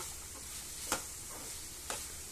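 Cumin powder and garam masala are stirred into food sizzling in a pan, giving a soft, even sizzle with two brief scraping strokes of the spoon, heard close and fairly quiet.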